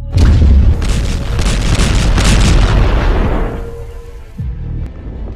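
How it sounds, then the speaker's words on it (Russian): A massive explosion levels half a city: a heavy booming blast with dense rumbling debris that rolls on loudly for several seconds, then fades into a lower, fainter rumble with a few scattered later thuds. "Произошел взрыв, и вы, кажется, полгорода взорвали"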